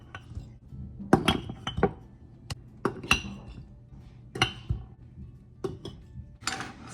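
A spoon scoops brown sugar into glass canning jars for baked beans, giving a series of close, bright clinks and taps against the glass at an uneven pace.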